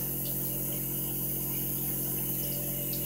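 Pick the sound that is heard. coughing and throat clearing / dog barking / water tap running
water tap running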